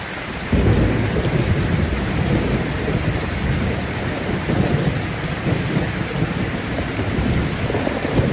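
Steady heavy rain falling in the night, a dense continuous hiss and patter that starts abruptly and stays loud throughout, with no voices.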